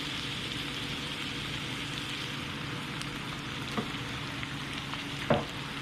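Pasta sauce for a lasagna stirred in a pan, a steady soft sizzle and wet stirring texture running throughout with a couple of brief spoon knocks near the end, no talking.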